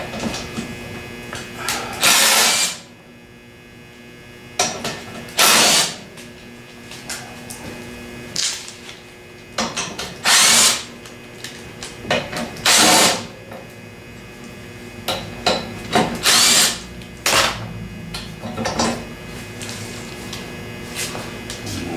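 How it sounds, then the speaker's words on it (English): An impact wrench rattles in about eight short, loud bursts separated by pauses while parts come off a John Deere SST16 mower during hydrostat repair work. A steady electrical hum runs underneath. "We'll get the impact out and pull this thing off the back and see what it looks like."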